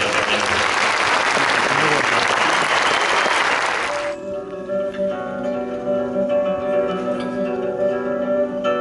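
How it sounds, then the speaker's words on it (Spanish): A loud burst of audience applause welcomes graduates at an engineering graduation ceremony, dense and even for about four seconds before cutting off into sustained music-like tones. "les pedimos un fuerte aplauso para que les demos la más cordial bienvenida"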